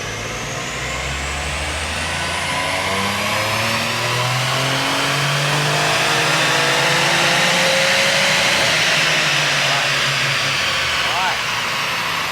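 A high-powered tuned car, a 405 kW build compared against an Evo, revs hard and continuously on a dyno, its engine note climbing steadily in pitch over about twelve seconds, loud and close throughout.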